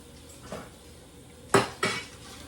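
Rice being stirred in a cooking pot, with a soft scrape followed by two sharp metallic clanks of a spoon against the pot, close and with no voices.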